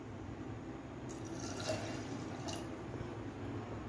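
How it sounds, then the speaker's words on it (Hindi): Water pours into a cooking pot holding lentils and rice, a steady, soft liquid rush and trickle lasting several seconds, close by and fairly quiet, with no talking. "तो गाइस अब इसमें थोड़ा सा पानी डालते हैं"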